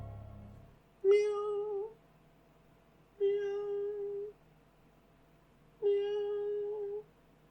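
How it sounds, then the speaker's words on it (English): Three distinct cat meows, drawn-out and evenly spaced, each a clear mid-pitched call in an otherwise quiet room. "I heard a very faint meowing in the room."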